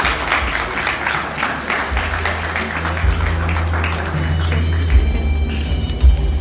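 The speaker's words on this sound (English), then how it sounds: "A round of applause, please" Sustained applause fills a graduation ceremony hall at Central High International School as parents are welcomed to the stage, a steady wash of clapping from a large crowd with a low hum underneath.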